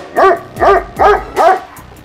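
A dog barks four times in an even rhythm, loud and close, each bark short and strong with brief pauses between.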